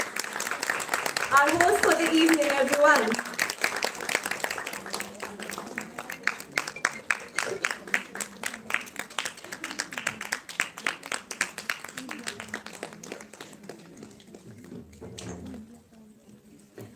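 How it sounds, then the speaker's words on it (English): Audience applause at a women's chamber live event in Chandigarh, with a voice speaking over its opening and a run of distinct claps that goes on for several seconds, then thins out and fades with voices underneath. "So big round of applause for Mrs. Deepika Bahari, President, Wicci UT Chandigarh"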